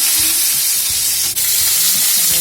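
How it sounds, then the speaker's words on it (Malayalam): Mustard seeds splutter in hot oil for lentil curry, a loud, continuous crackling sizzle close up, dense and steady with no talking. "കടുക് നന്നായിട്ട് പൊട്ടി വരുന്നുണ്ട്"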